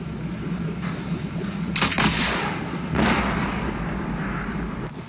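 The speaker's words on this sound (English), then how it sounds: "Bane is equipped with a devastating rocket launcher." Bane's devastating rocket launcher fires in the Batman: Arkham Origins multiplayer video game, with two loud booming blasts over a steady rumbling battle background.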